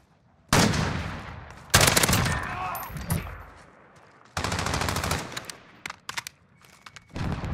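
Video game gunfire crackles in several dense bursts of rapid automatic shots, loud and close, separated by brief pauses and a few single shots, with a voice briefly speaking.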